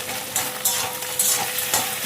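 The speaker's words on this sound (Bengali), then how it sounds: "ডিমটা ভাজা ভাজা হয়ে আসছে" Egg frying in a pan for fried rice, a close, bright sizzle broken by quick stirring scrapes that come in short bursts.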